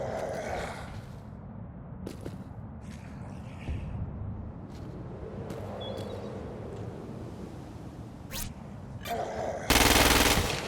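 Gunfire in the Crackdown 2 video game, a sustained rattle of shots with sharp bursts scattered throughout and a loud, dense blast near the end.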